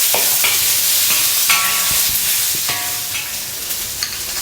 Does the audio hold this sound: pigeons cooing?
no